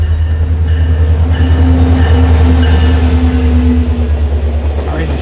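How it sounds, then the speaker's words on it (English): Alaska Railroad Hurricane train at the Talkeetna rail depot, a loud steady low diesel rumble with a droning tone running throughout, close by, with faint voices underneath. "it's from here that the train departs even further out into the wilderness"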